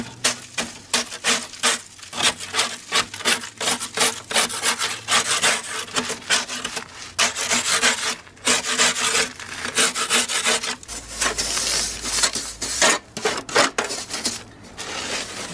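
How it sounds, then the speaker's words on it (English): Putty knife scraping debris out of a chimney part, a busy stream of rough rasping scrapes and scratches in quick irregular strokes, close and continuous with no talk. "Just gonna use a putty knife and scrape out the big stuff."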